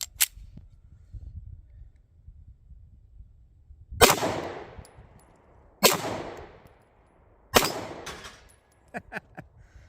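A Smith and Wesson CSX Micro 9mm pistol fired at steel targets outdoors: three sharp, loud cracks spaced a couple of seconds apart with ringing decay, plus fainter pops and clanks of hits, over a quiet background.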